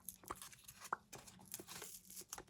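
Crinkly tearing of a pumpkin-shaped pumpkin latte packet being opened, close and quiet, with several short rips and rustles spread over a couple of seconds.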